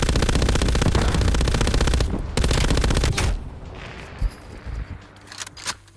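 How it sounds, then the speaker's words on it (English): MG 82 light machine gun from Call of Duty Cold War on Rebirth Island, firing loud sustained rapid bursts for about three seconds with a short break, then scattered quieter shots and game noise. "this is the slowest LMG I've ever seen"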